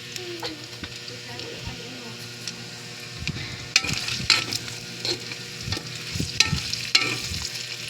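Banana blossom stir-fried in a pan with pepper for Filipino pork humba, a steady sizzle under repeated scraping and stirring strokes of a utensil against the pan.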